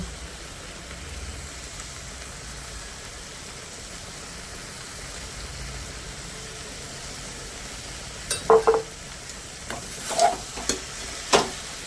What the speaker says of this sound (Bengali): এবার ভালো করে নেড়ে চেড়ে পুরো ঘি আর গরম মশলাটা মিশিয়ে নেব।